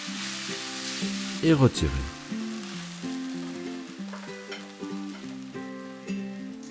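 Beef sears in a hot sauté pan, a steady loud sizzle and frying crackle with a burst of stirring clatter partway through, under faint music and a brief spoken voice.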